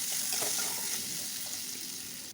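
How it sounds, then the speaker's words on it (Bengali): Potato pieces fry with salt and turmeric in hot oil, giving a dense, even, close sizzle that fades slightly over a couple of seconds, with no voice over it. "আর আলু প্রথমেই ভেজে নিচ্ছি নুন হলুদ দিয়ে।"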